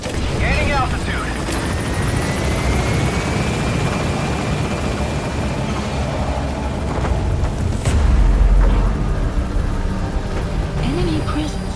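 Helicopter taking off in the video game Metal Gear Solid 5, a loud continuous rotor roar with a deep thump as it lifts, while voices talk over the radio.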